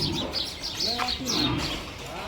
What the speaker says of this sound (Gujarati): આ ચકલીઓ રમી રહી છે.